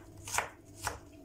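Two crisp knife chops through white cabbage for stuffed cabbage rolls, evenly spaced and close, each a sharp crunching strike against a cutting board in a quiet kitchen.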